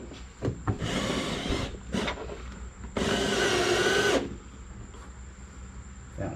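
A power drill tightens nuts on a Crazy Cart XL motor support bracket, with short whirring bursts followed by one longer, louder run of about a second, against workshop clatter.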